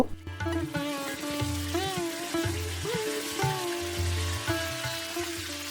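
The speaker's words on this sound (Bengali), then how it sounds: "এখন মেরিনেট করা মাছগুলো আমি এক এক করে তেলে ভেজে নিব" Marinated katla fish pieces fry in hot oil for a spicy Bengali fish curry, giving a moderate crackling sizzle under steady background music.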